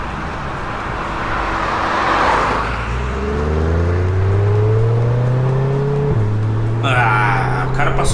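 A Chevrolet Corvette sports car drives past with a rising engine drone and shifting tones, close and loud, then a gear change near the end, while people talk over it.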